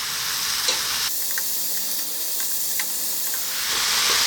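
Broccoli stir-frying in a wok, sizzling and steaming steadily while being stirred almost constantly, a broad continuous hiss with a few light clinks, no talking.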